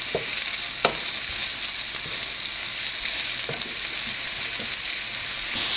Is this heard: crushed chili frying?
yes